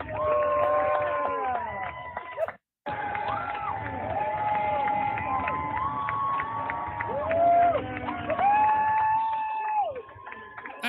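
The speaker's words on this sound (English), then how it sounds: "The whole section is cheering them on." A section of baseball stadium fans cheers a marriage proposal, a loud crowd roar full of whoops, shouts and high calls. The roar swells and dips, briefly cuts out, then builds again.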